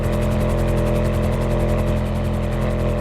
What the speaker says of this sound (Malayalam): ഹെലികോപ്റ്റർ നമുക്ക് എസ്കോർട്ടാണോ?